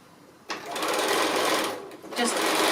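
A sewing machine runs steadily while stitching a small fabric gift bag a quarter inch from the edge, pausing briefly before starting up again; a voice talks over the whirring.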